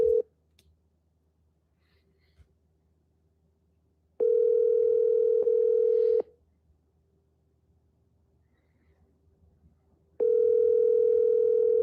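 Telephone ringback tone while calling a realtor: two long, steady electronic tones about two seconds each, separated by quiet gaps, heard clearly alone.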